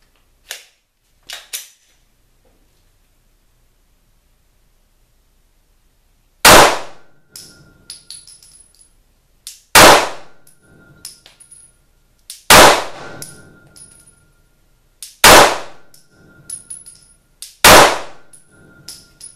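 A Glock 17C pistol fires Perfecta ammunition at a shooting range: five loud, sharp shots spaced roughly three seconds apart, each ringing briefly, preceded by a few faint clicks and with no talking.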